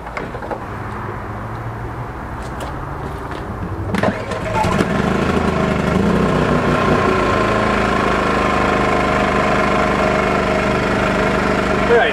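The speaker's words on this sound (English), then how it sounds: "Alright, started up the generator." A portable generator for a truck-camping air conditioner setup cranks and catches, then settles into a loud, steady running drone close by, after quieter rustling and knocks.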